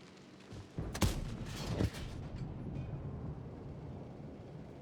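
A tank gun fires in World of Tanks as a sharp close blast near the start, followed by a rolling boom and a rumbling tail that fades into steady engine noise.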